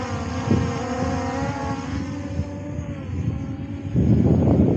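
Holystone HS720E camera drone lifting off on automatic takeoff outdoors in wind, a steady high propeller whine with rising harmonic tones, growing louder near the end.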